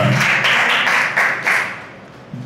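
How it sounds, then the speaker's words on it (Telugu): A church congregation claps together in a steady rhythmic beat, about six bright, full-room claps in quick succession that then thin out and fade. "చప్పట్లు కొట్టి ప్రభుని కనపరుద్దాం"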